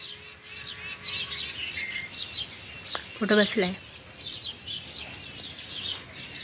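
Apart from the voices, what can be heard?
Asian koel calling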